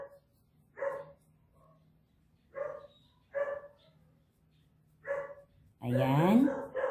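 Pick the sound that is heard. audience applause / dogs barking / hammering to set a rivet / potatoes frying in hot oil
dogs barking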